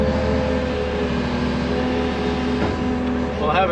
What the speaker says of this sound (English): Now, I've got some chainsawing to do.